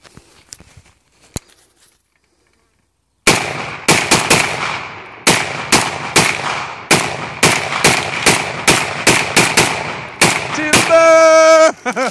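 A rapid series of loud, sharp gunshots rings out outdoors as a tree is shot down, about a dozen cracks in an uneven volley after a quiet start, ending in a longer sustained burst as the trunk gives way.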